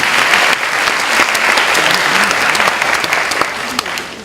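An audience at a university chapel service at Sun Moon University gives loud, dense applause that holds steady from start to finish and fades slightly at the very end.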